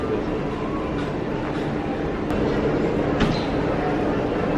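Walt Disney World monorail to Epcot rumbles along at steady speed, a dense continuous rolling roar from inside or beside the train with a few faint clicks and squeaks.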